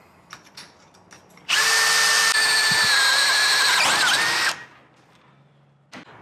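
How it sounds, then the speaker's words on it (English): A power drill bores 7/16-inch holes into a Ford F250 truck frame, a loud, sustained whining grind lasting about three seconds with a pitch dip near the end, framed by quiet clicks and handling noises before and after. "So now we just got to drill some 7/16 holes"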